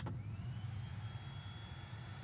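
Air conditioning in a Tesla car cabin starts up, a faint airy whoosh with a thin fan whine that rises in pitch and then holds steady over a low interior hum.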